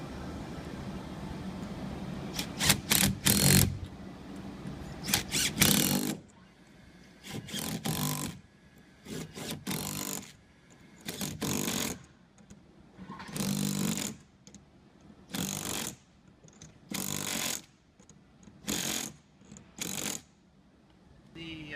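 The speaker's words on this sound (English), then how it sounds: "Tightening the nuts." Nuts being tightened with a ratcheting hand tool while a tank is refitted, giving bursts of mechanical clicking and whirring in repeated spells separated by short pauses, fairly close and moderately loud.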